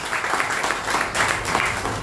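A church congregation at a Sunday service claps together, a sustained wash of many hands heard at moderate distance with no voices over it.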